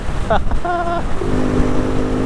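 A 2022 Honda Navi small motorcycle accelerates, its engine note rising in pitch as the rider pulls away, close and fairly loud, with a voice heard briefly over it.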